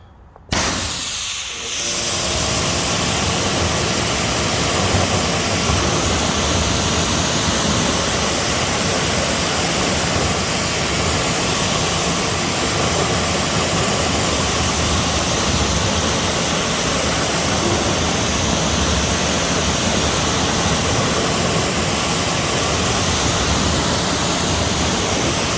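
Steady, loud hiss of a pressurized water spray rinsing a car wheel after black wheel cleaner, running continuously for the whole stretch without pause.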